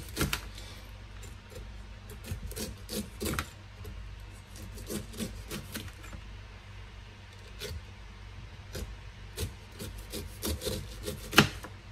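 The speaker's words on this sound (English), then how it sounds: "I already started peeling the pineapples, so let me just continue peeling it." A knife peels the skin from a fresh pineapple up close, with repeated scraping, rasping cuts and short rubs at a steady, uneven pace, and a sharper knock near the end, with no speech.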